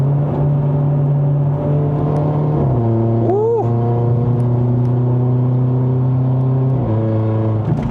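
A Mercedes-Benz C180 AMG Line (W205) revs its engine hard. The loud, steady pitch steps down at a gear change, gives a brief sharp rising whine, then holds high before another shift.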